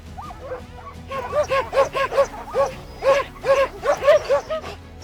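Sled dogs at the start of a stage race bark and yip excitedly in quick, rhythmic bursts that build and repeat, loud and fairly close, over a low background.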